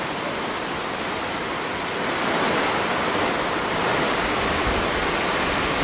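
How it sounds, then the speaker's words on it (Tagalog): Sudden heavy typhoon downpour, a dense, loud, continuous roar of rain hammering surfaces nearby that swells slightly midway, with no voices. "biglang buhos oh"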